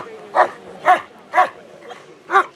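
German shepherd working dogs bark at a festival, four or five sharp, close barks in an even rhythm about half a second apart.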